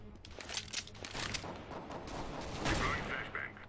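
FAMAS rifle fire in CS:GO on Xbox One, quick rattling bursts of shots at moderate volume with overlapping gunfire, while a voice talks over the shooting.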